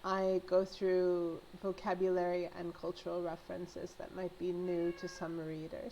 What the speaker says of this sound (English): Excuse my cats and dog, they're being a little dramatic right now.